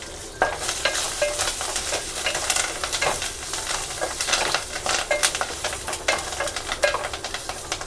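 Cumin, curry leaves, tamarind and a pinch of turmeric fry in a pan for a cucumber roti pachadi, giving a steady close sizzle with scraping stirs and light utensil clinks, and no talking.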